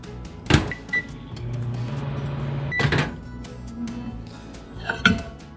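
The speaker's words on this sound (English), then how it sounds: "And now we're going to microwave it for another 30 seconds." A microwave oven runs while heating a bowl of Muddy Buddies (puppy chow) mixture, its low steady hum holding throughout, broken by a few sharp clanks and knocks of dishes nearby, with no talking.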